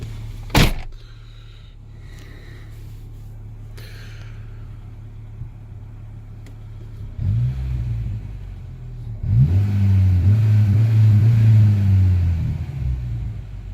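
A Mk1 Renault Clio RN 1.2 D7F engine with an idle control valve problem idles low and steady after a sharp click, then revs up a couple of times with deeper rumbling.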